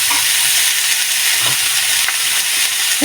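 Chopped onion and garlic frying in a pan for a dried red chili bhorta, a loud, close, continuous sizzle with occasional stirring scrapes and no talking.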